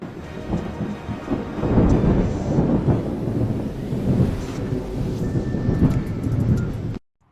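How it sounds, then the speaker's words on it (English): Powerful lightning strikes over Hanoi, Vietnam bring loud, rolling thunder that rumbles on for several seconds with rain beneath it, then cuts off abruptly. "Powerful lightning strikes Hanoi, Vietnam."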